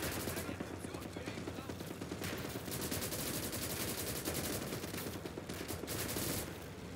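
Tank and infantry gunfire rattles in the World War II strategy game Call to Arms: Gates of Hell, a dense continuous stream of rapid shots and bursts, fairly faint and steady throughout.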